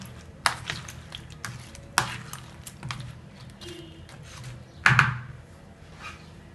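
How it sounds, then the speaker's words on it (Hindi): A spoon stirs and mixes fruit chaat with a teaspoon of chaat masala in a bowl, giving soft scraping and a few sharp clinks against the dish, with no voices. "चाट मसाला एक चाय का चम्मच इसको मिक्स कर लेते हैं"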